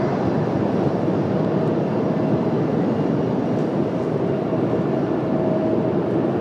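A Frontier airliner arrives and lands at Washington Dulles on a cloudy day, its engines giving a steady, broad rumbling roar that holds evenly for several seconds.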